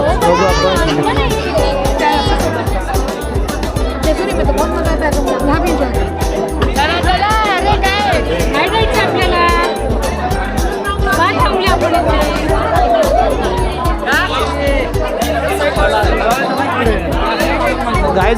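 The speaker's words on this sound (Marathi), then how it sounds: "सिरियसली काय संडे असल्यामुळे लय गर्दी आहे" A large, dense crowd packs Jyotiba temple in Kolhapur on a Sunday, steady loud babble of many voices and children close around, with people talking nearby throughout.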